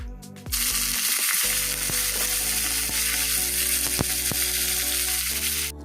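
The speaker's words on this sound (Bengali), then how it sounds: "এবার আমি বাঁধাকপিটা দিয়ে দেবো, দিয়ে পুরো জিনিসটাকে ভেজেই করব।" Shredded cabbage goes into a hot pan to fry, setting off a loud, sustained sizzle that runs unbroken, with the clack of a spoon stirring now and then.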